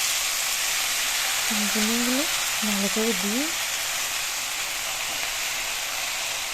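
Shredded cabbage frying in a pan for a spiced cabbage bhaji, a steady broad sizzle that runs the whole time while a voice talks briefly in the middle.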